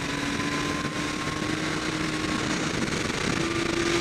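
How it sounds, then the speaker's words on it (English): A 2012 Kawasaki ZX-14R engine pulling at low revs, a steady continuous drone with a faint high whine, even in loudness throughout and heard alone without voices. "you can lug the motor well below 4 grand and pull out of them with plenty of power"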